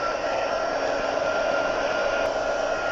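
A heat tool blows hot air over embossing powder on a handmade Christmas card, a loud, steady rushing hiss like a hair dryer that runs without a break.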